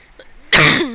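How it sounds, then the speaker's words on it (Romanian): A man with a cold lets out a single sudden, harsh cough after a brief quiet moment, close and loud, trailing into a short throaty rasp. "Că sunt răcit, am început să tușesc doar"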